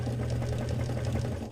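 A sewing machine stitching sails for a 1:24 scale kit model daysailer hums and chatters steadily and close, a continuous mechanical drone with no pauses.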